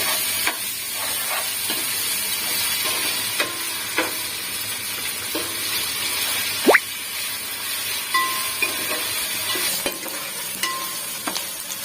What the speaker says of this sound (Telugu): అల్లం వెల్లుల్లి పేస్ట్ కూడా వేగాలి